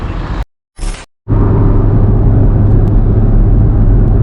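Porsche Cayman 981 GTS with a naturally aspirated 340 hp flat-six cruising on an unrestricted autobahn, heard as a loud, steady low engine drone and road rumble after a couple of brief cutouts at the start.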